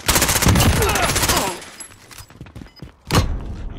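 Machine gun fire in a video game pours out in a loud, dense sustained burst, then fades, before a second sharp burst of shots returns near the end.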